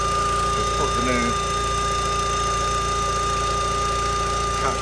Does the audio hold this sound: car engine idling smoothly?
yes